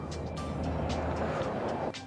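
A truck with an automatic transmission pulls away on the highway, its engine a low, steady rumble rising gently as it accelerates, then cutting off abruptly near the end.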